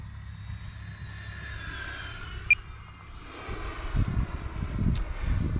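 FMS 80mm Rafale electric RC jet with the throttle pulled back, a faint distant whine that gently sweeps in pitch. It is joined by a rising ducted-fan whoosh and low wind rumble toward the end.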